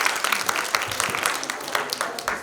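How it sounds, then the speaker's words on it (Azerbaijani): A group applauding at a youth training event, with brisk, continuous clapping from many hands close by that fills the whole stretch, with no talk over it. "Alqışlayırıq onlar."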